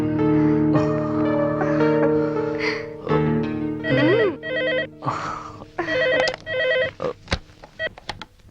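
A telephone rings loudly in a police action film scene, sounding as a series of bright electronic ringtone bursts that repeat in short spaced pulses, mixed with other scene sounds and no clear talk.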